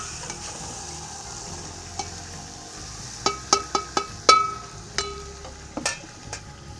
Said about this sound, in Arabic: الحين نحوث البصل